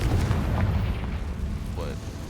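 A Confringo fire spell blasts in the video game Hogwarts Legacy, a loud rumbling explosion with a brief rising whoosh, heard over continuous game noise and voice.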